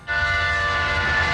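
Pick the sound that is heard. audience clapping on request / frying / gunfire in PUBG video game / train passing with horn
train passing with horn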